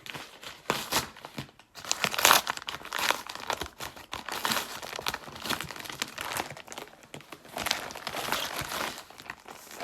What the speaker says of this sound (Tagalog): So ito buksan natin guys.